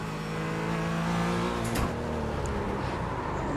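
Porsche 718 Cayman GT4 engine in the iRacing simulator, a steady sustained drone that holds at a continuous pitch under faint tire noise, with no voices.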